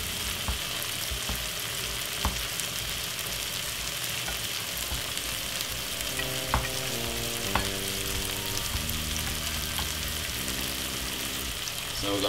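Crushed corned beef frying in a pan as part of a vegetable fry-up, steady loud sizzling close up with occasional stirring scrapes throughout.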